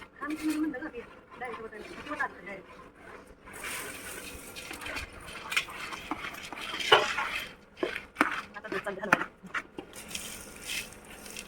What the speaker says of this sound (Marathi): त्याच्यानंतर आता बुंदी ऍड करणार आहे थोडी थोडी करून